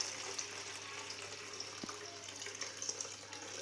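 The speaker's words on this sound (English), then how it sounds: "Pump is on." An Arduino-controlled water pump running with water flowing, a steady hiss of rushing water under a low constant motor hum, even and unbroken throughout.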